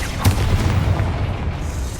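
A Bombarda spell blast in Hogwarts Legacy on PS5 Pro, one heavy low boom at the start that rumbles on and slowly fades over two seconds.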